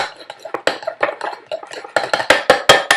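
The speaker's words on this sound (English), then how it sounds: "now we mix all that together" A spoon stirs an oatmeal and lavender face mask paste in a bowl, with close, irregular scraping and clinking taps that quicken into sharper knocks toward the end.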